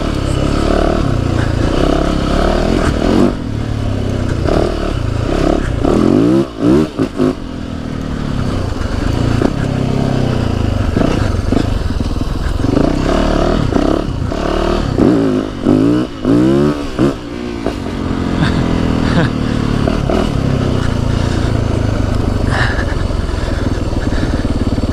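A KTM 300 2-stroke or Yamaha YZ450FX dirt bike rides through the woods, its engine loud and close, revving hard in repeated surges of acceleration with brief throttle drops between.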